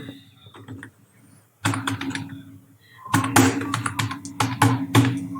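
Keys tapped on a computer keyboard while entering text in MS Word, with a brief patter of strokes followed by a quiet pause and then a denser run of clicks, close and fairly loud over a low background hum.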